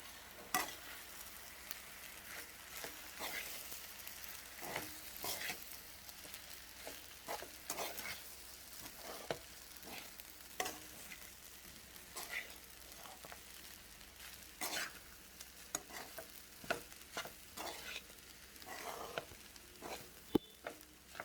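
Chinese vegetable fried rice with soy sauce, vinegar and green chilli paste is stirred and fried in a pan, producing a soft continuous sizzle with scattered scraping taps from the spoon, quiet and fairly close.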